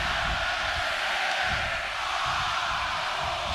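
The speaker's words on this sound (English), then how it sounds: "just listen to the crowd" A large wrestling arena crowd roars continuously at a Royal Rumble event, a dense, loud wash of cheering with no breaks.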